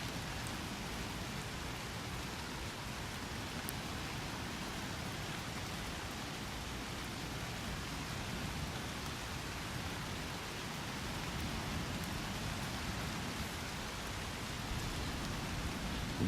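Steady rain patters onto a beach in North Naples, Florida, a dense, even hiss of drops that continues unbroken throughout, with no voices.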